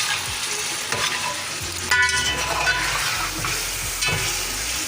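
Chicken pieces frying in oil for Sindhi biryani, a loud, steady sizzle broken by scraping stirs of a spoon against the pan, with no talking.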